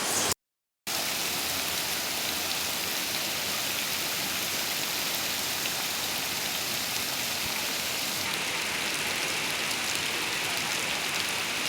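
A tall waterfall at Penchalakona pours down during rain, making a dense, continuous rushing roar after a brief silent gap at the start.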